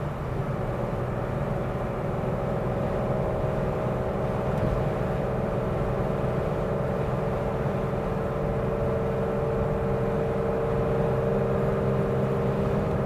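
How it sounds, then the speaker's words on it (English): Engine of a 1970 Porsche 911T cruising at a little over 60, a steady, continuous drone with a low rumble and a constant mid-range hum, loud and unbroken, no voices. "So the car gets up, it goes, it's running nicely"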